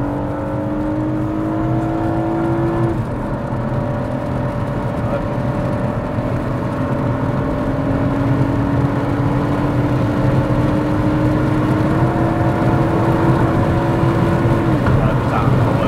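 Ethanol-tuned Honda Legend V6 VTEC car accelerating hard, its loud engine note climbing steadily in pitch across repeated pulls, with a brief gear-change dip, under some talk.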